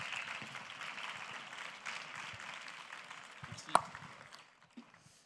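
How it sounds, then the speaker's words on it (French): Audience applause for the next comedian at a comedy club show, a dense steady patter of clapping that fills the space and fades toward the end, with a sharp clap-like crack near the close. "je vous demande de faire un tonnerre d'applaudissements pour le prochain"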